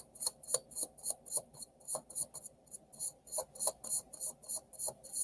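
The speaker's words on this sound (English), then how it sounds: "one more shuffle because this deck is super thick" A very thick deck of tarot cards is shuffled in quick, crisp riffling bursts that repeat in a steady rhythm, close up with no talk.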